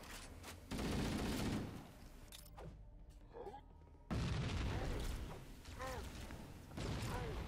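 Gunfire and explosions in the shooter game Halo: Combat Evolved Anniversary, loud dense bursts of weapon fire with booms and mechanical clatter, a brief lull mid-clip before heavy firing resumes.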